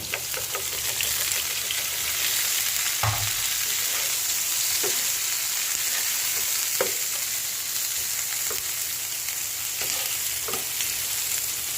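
Aromatics sautéing in a frying pan for a budget Filipino dish, a steady close sizzle broken by occasional stirring scrapes.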